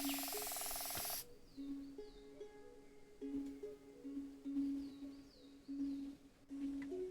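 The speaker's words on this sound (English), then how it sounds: "Let's spray paint it." Spray paint hisses in a short, loud burst onto an old needle in a video game, then stops, leaving soft chirping game ambience and faint tones behind.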